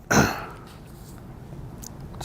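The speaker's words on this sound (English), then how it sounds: "I was coughing." A single sharp cough from an adult in a courtroom, loud and close at the start, followed by quiet room tone.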